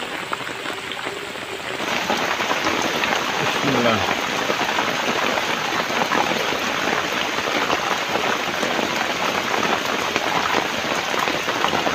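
Steady rain pours on a fishing spot, starting lighter and swelling into a loud, dense patter of drops on the surface after a couple of seconds; someone speaks briefly at the start.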